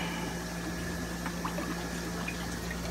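Water runs steadily while a container that held Prazi Pro parasite treatment is rinsed out beside a fish tank, a continuous close splashing flow at even level with no talk.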